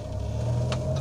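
A vehicle engine running on reserve petrol is revved, giving a steady close mid-pitched drone that rises slightly in pitch and intensity over a single second.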